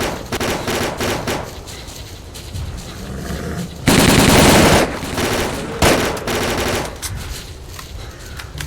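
Automatic gunfire in the S.T.A.L.K.E.R.: Call of Pripyat shooter game, loud rapid machine-gun bursts with one long sustained volley in the middle and shorter cracks around it.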